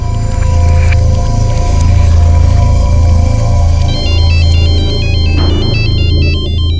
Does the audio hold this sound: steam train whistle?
no